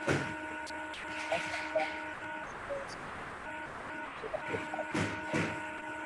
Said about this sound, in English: Sounds like a printer.